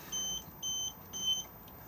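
The control panel of an Auto-Trail Imala 736 motorhome beeps with the engine off: three short, thin electronic beeps, evenly spaced and fairly quiet, over a faint background hush.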